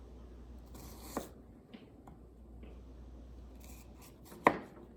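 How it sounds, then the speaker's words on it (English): A knife cuts an onion into strips on a cutting board in a quiet room. A few separate taps and light scrapes are spaced apart, and one sharper chop lands near the end. No one speaks. "we are going to cut our onion into strips, just like this"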